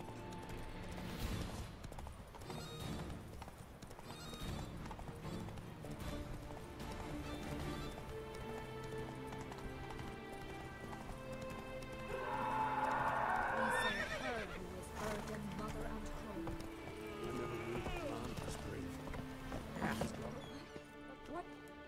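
Roach, a horse in a video game, gallops with a continuous clip-clop of hooves and gives a loud whinny midway, with other game sounds mixed in around it.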